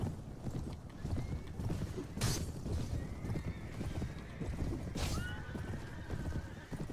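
Cavalry horses in the Mount and Blade video game neigh twice and gallop in a steady clatter of hooves during a charge, loud and close with some wind noise.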